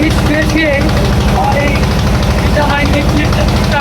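A small trawler boat's engine drones steadily and close by, a low throbbing rumble that runs throughout under someone talking nearby.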